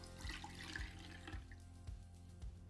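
Faint, steady trickle of mint-infused liquid being poured through a strainer in a kitchen, with soft irregular splashes and drips.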